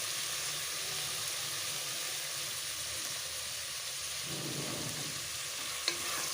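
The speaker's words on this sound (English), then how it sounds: "Toss this all really well." Mixed vegetables for pulao sizzling in a pan as they are tossed and stirred, a steady hiss of frying with soft scraping stirs and one sharp clink near the end, no talking.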